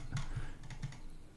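Typing on a computer keyboard during CAD modelling work in Revit: a few soft, quick key taps, close and quiet, spaced unevenly over a faint room hum.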